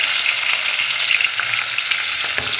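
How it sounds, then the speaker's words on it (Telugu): Ginger garlic paste, green chillies, onions and cashews fry in a pressure cooker for vegetable pulao, giving a loud, close, steady sizzle with occasional stirring clicks and no talking. "వెంటనే వేస్తే బాగా ఇవన్నీ ఫ్రై అవుతాయండి"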